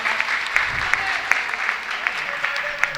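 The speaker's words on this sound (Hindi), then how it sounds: "एक बार जोरदार तालियों के साथ।" Crowd clapping at an Urdu mushaira poetry gathering, a close, lively patter of hands with a few sharper claps standing out, while a voice briefly murmurs over it.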